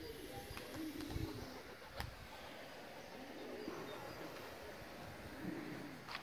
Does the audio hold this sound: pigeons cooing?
yes